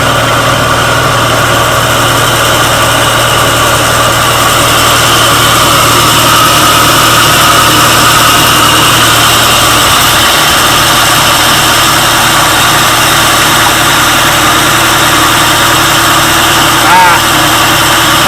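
A reel mower backlapping with grit compound runs as a loud, steady mechanical drone with a continuous low hum and a faint gritty whir, unbroken for the whole stretch.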